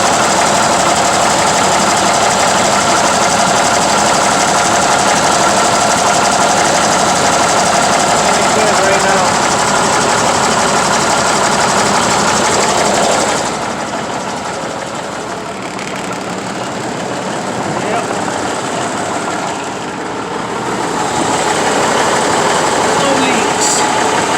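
A Cummins Big Cam III diesel truck engine idles steadily for the whole stretch, a dense mechanical rumble with a brief dip partway through, with talk over it.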